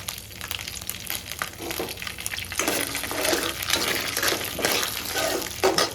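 Peanuts, urad dal and chana dal sizzle and crackle in a pan for a mango chitranna, a steady close hiss with stirring scrapes building louder partway through, no talk.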